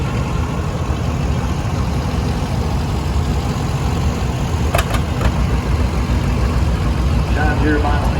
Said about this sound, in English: 1957 Case Model 310, owned by John Spencer